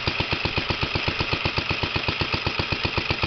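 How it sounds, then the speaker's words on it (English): A 1930 Moto-Mower Junior lawn mower with a Briggs FHI engine runs steadily, its firing beats rapid and even in a close, regular putter with no other sounds. "Now this mower is a 1930 Moto Mower Junior with a Briggs FHI engine."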